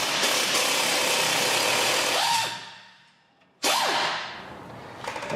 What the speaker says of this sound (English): I have an 18mm impact driver, so I'm going to use that